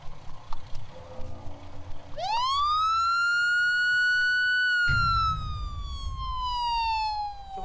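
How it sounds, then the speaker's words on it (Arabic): An ambulance siren rises sharply after brief voices and rumbling noise, then holds a loud, close, steady wailing tone that slowly falls, with engine or traffic rumble returning beneath it. "شوف الاسعاف يا ابني."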